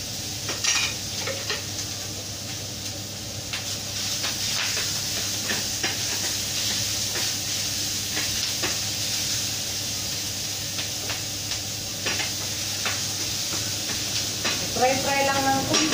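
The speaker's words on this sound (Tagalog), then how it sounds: "Kailangan i-fry sa non-sticky pan." Beancurd and vegetables sizzle in a non-stick pan amid utensil stirring and scraping clinks, with a person talking over the cooking.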